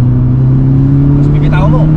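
Mitsubishi Lancer Evolution exhaust holding a loud, steady droning engine note close by, with someone speaking over it.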